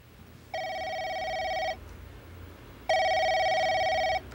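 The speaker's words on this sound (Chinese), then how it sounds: "小敏，听电话" A telephone rings indoors with two bright electronic trills, each lasting over a second, separated by a short pause; the ringing is clear and nobody speaks over it.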